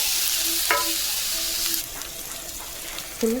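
Onions frying in a pan while cooking a paneer and cauliflower curry, a steady close sizzle with a few brief clinks of a utensil stirring against the pan.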